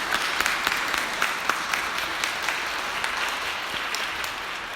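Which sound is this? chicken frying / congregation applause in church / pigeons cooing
congregation applause in church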